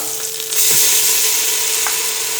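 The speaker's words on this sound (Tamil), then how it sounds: "மீடியம் ஃப்ளேமில் வச்சு இஞ்சி பூண்டு பேஸ்ட்டை பச்சை வாசனை போகிற வரைக்கும் வதக்கிக்கலாம்" Ginger garlic paste sizzles over a medium flame, a loud, steady hiss that swells after a brief quieter start, with a couple of light utensil taps.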